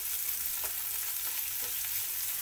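Tomatoes frying on a stovetop for restaurant-style dal give off a steady, soft sizzle. It is continuous and fairly quiet, with a few faint pops and spits.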